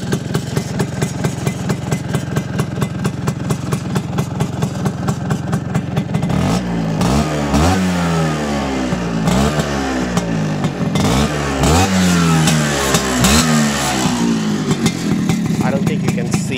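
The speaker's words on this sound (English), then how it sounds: "There's a metallic noise coming from the aftermarket exhaust." A Vespa PX200 two-stroke scooter with an aftermarket expansion chamber exhaust idles with a rapid, even putter, then revs up and down in repeated swells, loud and close with a metallic edge, while a voice talks over it.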